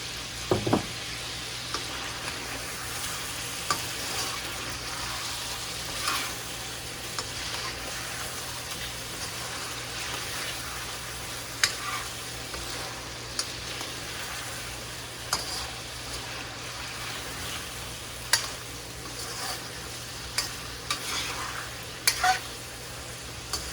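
Green chillies fry with chicken in a karahi, a steady close sizzle broken by occasional clinks and stirring scrapes against the pan, no voices over it.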